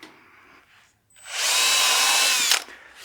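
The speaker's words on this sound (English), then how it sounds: "I'll get my drill bit, and I've got a little collar on my drill bit" A power drill with a depth collar on its bit whirs loudly into a wooden bowl blank for about a second and a half, spinning up steadily with a high whine before stopping abruptly, with quiet room noise around it.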